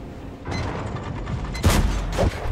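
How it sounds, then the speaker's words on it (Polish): Tank cannon fire in an online tank battle game: a sharp blast rolls into a rumbling mechanical background, followed by a second heavier boom with a ricochet-like ring, loud and close. "Drugi strzał już ładniejszy."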